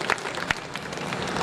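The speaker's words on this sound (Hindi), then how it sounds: "मैं समझता हूँ तालियां आपकी भरपूर होनी चाहिए थी" An audience at a poetry recital claps in a dense, steady burst, with a few sharper individual claps standing out across the brief stretch.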